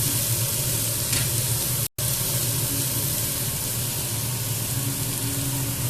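Ingredients sizzling in a hot pan while being sautéed for a home-cooked New Year's Eve buffet, a steady close frying hiss with faint stirring, briefly cut by a short dropout, no talk.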